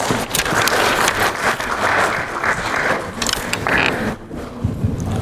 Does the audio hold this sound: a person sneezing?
no